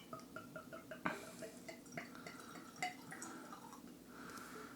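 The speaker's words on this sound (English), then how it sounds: "So let's go ahead and pour some in here." Old Forester 86 bourbon poured into a glass, heard as soft, close liquid dripping and trickling with small glassy clinks, fairly quiet and continuous over a few seconds, with no speech.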